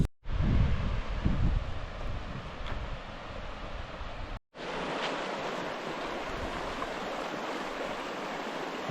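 A river in the Icelandic highlands rushes steadily at a crossing, a broad continuous roar of flowing water with wind buffeting the microphone, briefly cut off midway, with no talk.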